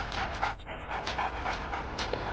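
A dog on a walk pants rapidly and rhythmically close by, quick breathy huffs repeating steadily with no talking.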